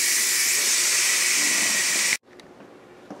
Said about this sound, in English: we're going to release the pressure